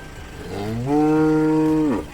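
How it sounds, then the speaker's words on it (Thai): A pregnant Charolais breeding cow loaded on a transport truck lets out one long, loud moo close by. The low call swells and holds for about a second before tapering off. "วัวขึ้นรถเรียบร้อยนะครับใส่ขุมทั้งคู่นะครับ"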